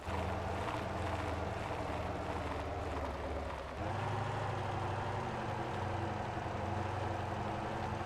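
A stock, un-upgraded truck engine in the game Motor Town runs steadily and loud, holding a low idling drone with a brief dip and shift in pitch partway through.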